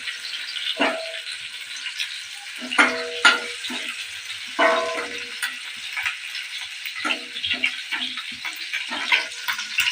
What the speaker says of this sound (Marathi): हे दोन्ही छान परतून घ्यायचं लसण थोडंसं गुलाबी होऊ द्यायचं